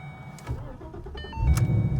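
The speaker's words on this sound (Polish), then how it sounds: "Mamy obroty trochę wyżej, ponieważ odpalenie jest na zimnym silniku." Ford Mustang GT with a Boss 302 manifold cold-starts: a whirring starter, then the engine catches and rises into a loud, rumbling idle.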